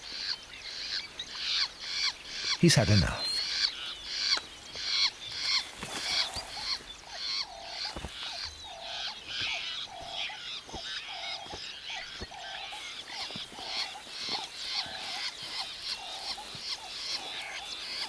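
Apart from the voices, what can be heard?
fiscal shrikes squawking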